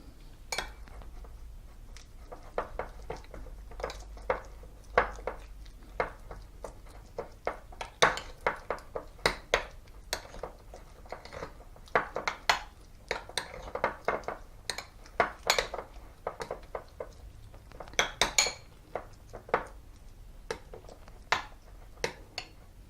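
A spoon stirs steel cut oats in a bowl, giving a run of quick clinks and scrapes against the dish, fairly close and moderately loud, with no talking.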